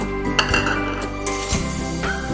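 A spoon clinks and scrapes around a metal pot while milk and cornflour are mixed for home-made mac and cheese, a few close rattling strokes with faint stirring between them and no talking.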